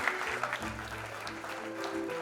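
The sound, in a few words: applause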